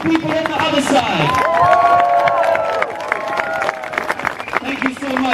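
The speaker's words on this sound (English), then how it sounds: "This side, applaud the people on the other side." Applause and cheering from a rally crowd, a sustained dense clatter of clapping with a voice talking over the top.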